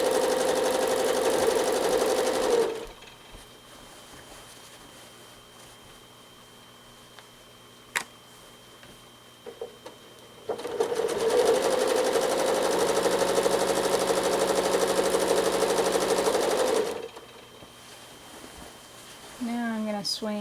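A sewing machine doing free-motion quilting on a flower petal design runs in two long steady whirring bursts, close and loud, separated by a quiet pause with a few small clicks.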